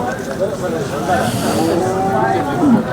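Heifers, first-calf cattle at Sangola livestock market, moo in a drawn-out, rising and falling call over steady market background noise, fairly loud and close.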